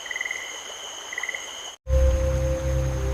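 A glass tree frog calls at night in the rainforest, giving short rapid trills among steady insect drone, then a brief cut leads into a louder, lower ambience.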